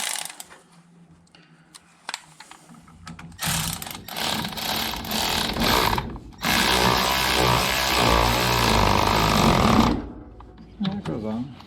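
An air ratchet works on the steering parts of a Datsun 521 mini truck, heard as two loud bursts of buzzing, rattling tool noise with a pause between them, and someone talking around them.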